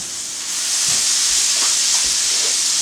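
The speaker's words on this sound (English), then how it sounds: "our pasta now boils for 5 minutes" A pot of pasta boils on the stove with a broad, steady hiss and rolling bubbling that swells after a moment, with soft bubble pops underneath.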